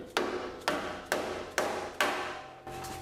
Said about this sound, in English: just cracking it a few times with my dead blow hammer